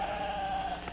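A single sheep bleats once, a sustained, wavering nasal cry lasting about a second, close and fairly loud over faint background hiss.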